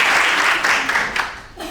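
Audience applause at a Portuguese-language sales talk, a short burst of dense clapping that begins loud and fades within two seconds, with faint voices underneath.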